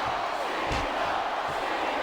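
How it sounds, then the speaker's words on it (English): A capacity arena crowd in the WWE SmackDown vs Raw 2008 video game roars and cheers continuously, loud and dense, with a brief swell of noise partway through. "It sounds like this capacity crowd has something on their minds."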